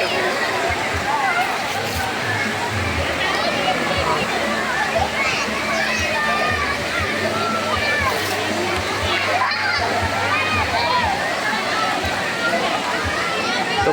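Continuous rushing water and splashing at Malamig sa Bato cold spring during an outing, with many children and adults bathing nearby and constant overlapping chatter and shouts throughout.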